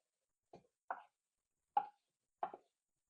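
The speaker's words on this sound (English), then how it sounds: "we want to go ahead and add our sausage that we had cooked earlier" Pieces of cooked sausage dropped into a pot of gumbo, four soft separate plops and thuds spaced about a second apart, close and quiet against silence.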